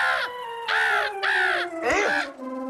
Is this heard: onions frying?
no